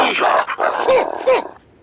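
A cartoon dog in an animated series barks and yips in a quick excited burst of several short, close barks, then falls silent.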